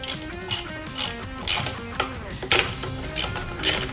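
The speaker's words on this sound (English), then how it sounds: "Next job is to undo the wheel nuts." A ratcheting socket wrench clicks rapidly and closely in repeated strokes while undoing the wheel nuts on a boat trailer.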